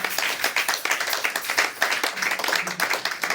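A church congregation claps and applauds together at a Sunday worship service, a dense, steady patter of many hands filling the room for a few seconds.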